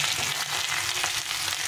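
Brinjal pieces fry lightly in oil in a pan for a mixed-vegetable fish curry, giving a close, steady sizzle with faint stirring scrapes and no voices.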